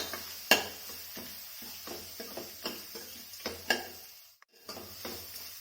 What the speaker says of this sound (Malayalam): ഈ മഞ്ഞൾപ്പൊടി കൂടി ചേർത്ത് നമുക്ക് ഒന്നുകൂടി ഈ ചീര നല്ലതുപോലെ ഒന്ന് ഇളക്കി യോജിപ്പിക്കാം